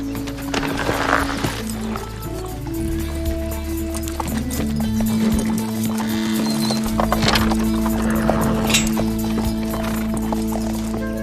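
Hooves of a ridden horse clip-clop steadily at close range, joined by a brief neigh, with a constant low hum and background noise underneath.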